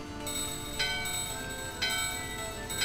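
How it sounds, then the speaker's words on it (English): Bells ring in the Final Fantasy 9 video game, three bright metallic strikes roughly a second apart with long shimmering decay, clear and prominent over a steady game background. "The bells are ringing!"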